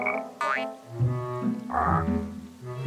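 Cartoon frog croaking by a fishing spot, a bright boing-like springy call followed by a few low, wobbling croaks that rise and fall in a loud, close, playful pattern.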